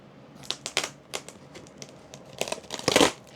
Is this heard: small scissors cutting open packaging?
yes